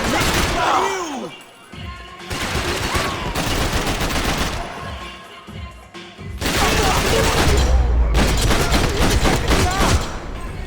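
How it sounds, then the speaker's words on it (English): Dense video-game gunfire in Max Payne 3, with bursts of automatic fire and heavy shots coming in waves over about ten seconds, loud and close, with shouted voices mixed in between the volleys. "Não cessem de atirar, rapaziada!"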